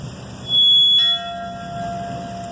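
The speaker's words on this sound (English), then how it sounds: "We've heard the bell toll." A single memorial bell strikes once at a firefighters' memorial service in an outdoor park, a bright ringing tone that hangs and decays slowly over steady background ambience.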